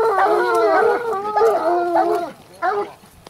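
Grand Gascon Saintongeois hounds bay and howl at a hunting trial in a run of long, overlapping, fairly close voices that pause briefly before a last short burst.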